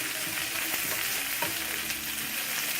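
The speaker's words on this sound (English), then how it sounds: "And then we will keep stirring because the possibility is it's gonna get burned." Bitter melon (karela) slices fry in oil in a pan, giving a continuous bright sizzle with occasional scraping knocks from stirring; close and fairly loud, no voices.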